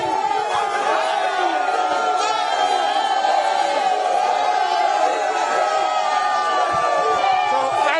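A large crowd of party delegates at an NPP parliamentary primary in the Bantama constituency makes a steady, loud din of cheering and chanting voices that never lets up.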